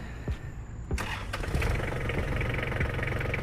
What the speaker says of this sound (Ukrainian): давайте заведемо тракторець і трошки на ньому проїдемося